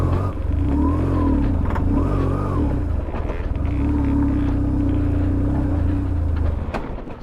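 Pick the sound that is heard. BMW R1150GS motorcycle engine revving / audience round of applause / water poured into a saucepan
BMW R1150GS motorcycle engine revving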